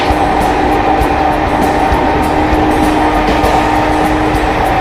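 Inside a moving passenger train travelling from Kolkata to Ghatshila, a loud, steady rumble of wheels and carriage fills the space without a break.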